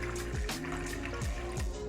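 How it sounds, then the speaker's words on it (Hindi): Water pours from a glass into a pressure cooker holding a steaming stand, a steady close liquid splash and gurgle filling the short moment without talk. "इसके अंदर मैं तकरीबन 1 गिलास के जितना पानी डाल दूँ।"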